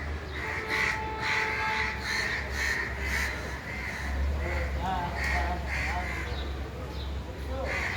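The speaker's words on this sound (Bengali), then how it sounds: "কোত্থেকে আসছে এগুলো, এতগুলা কাক।" A large flock of crows caws over a road at evening, repeated harsh calls overlapping near and far across a steady low rumble, with a person talking in between.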